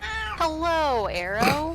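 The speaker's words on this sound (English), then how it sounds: "That was my cat, by the way." A house cat meows in a long, rising and falling wail, then gives a shorter cry, heard close up while a voice talks over it.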